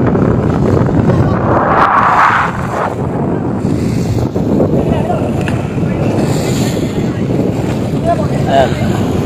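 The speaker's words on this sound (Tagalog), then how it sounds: "Meron po dito na bangka." Boat on open water during a rescue at sea off Polillo, Quezon, after a passenger boat sank. Steady wind buffets the microphone over a low, constant rumble of water and hull, with voices faint in the background.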